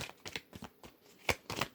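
Tarot cards being shuffled by hand: a series of short, soft papery riffles and taps in quick uneven bursts, close and fairly quiet.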